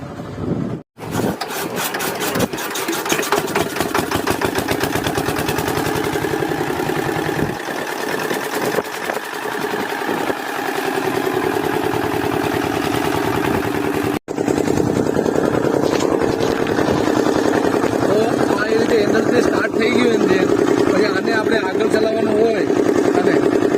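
A Ma Mogal mini tractor cultivator's small engine runs close by with a rapid, steady chugging that drops out briefly twice, and someone talks over it for much of the stretch.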